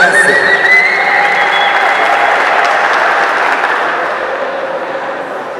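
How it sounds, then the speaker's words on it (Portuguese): At a Muay Thai event, the audience bursts into loud, dense applause for two fighters. It carries on steadily and eases off slightly toward the end. "mais uma salva de palmas para esses dois guerreiros que fizeram uma grande batalha"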